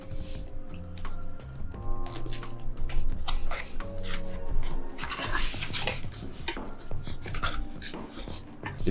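Stem Player packaging torn and ripped open by hand, a busy run of crinkling, tearing and rubbing noises with sharp rustles throughout, close up and fairly loud, with no talking.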